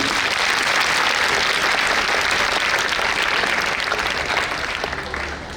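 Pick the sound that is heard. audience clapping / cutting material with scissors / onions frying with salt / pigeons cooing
audience clapping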